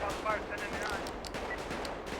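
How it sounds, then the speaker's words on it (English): Gunfire in a police roleplay video game, a quiet spatter of shots and crackling bursts over a busy background, fairly distant and low in level, with no voices clearly heard. "Oh, I'm getting shot!"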